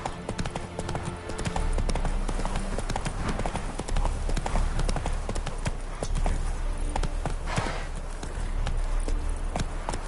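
A horse gallops in the video game The Witcher 3, its hooves pounding a fast, steady clip-clop rhythm throughout, close and loud over a low game ambience.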